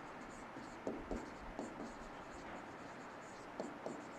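Chalk or marker writes on a board in a civil engineering lecture, a faint series of short scratchy strokes spaced a second or so apart, heard under a quiet background with talk nearby.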